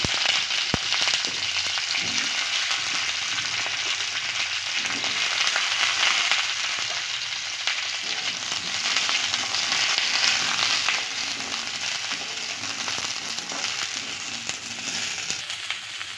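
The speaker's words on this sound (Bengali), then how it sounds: "এবার আমি ওই তেলের মধ্যেই ফুলকপিগুলোও ভেজে নেব" Cauliflower florets frying in hot oil, a steady close sizzle with continuous crackle running throughout without pause.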